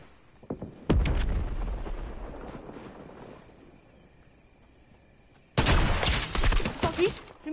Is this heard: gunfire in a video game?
yes